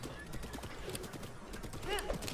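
Horse hooves clip-clop in Breath of the Wild, a steady patter of footfalls running through the clip with a brief whinny near the end, close and moderately loud.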